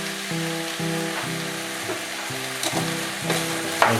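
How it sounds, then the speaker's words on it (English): Cubed butternut squash and sweet potato with a squeeze of lemon sizzle and fry steadily in a pan for soup, a continuous close crackle with a few sharper pops and no talking. "So I'm going to leave that to saute for about 5 minutes."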